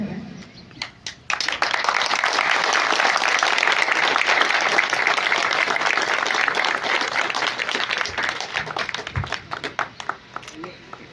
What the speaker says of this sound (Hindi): आप लोग जोरदार तालियों से स्वागत की इस कड़ी में और चार चांद लगाने की प्रयास करें।